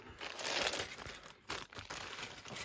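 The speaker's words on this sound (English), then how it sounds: "Cut the bag open. Scissor a bit." Scissors cut open a plastic bag from an Airfix Pagani Huayra starter model kit, heard up close as a crinkly rustling with a couple of brief snipping pauses.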